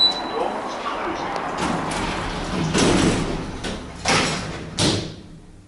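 Old lift doors in the Dolphin Shopping Centre, Poole, slide shut with a rumbling roll and a couple of sharp thuds, close and moderately loud, with a voice speaking over the start.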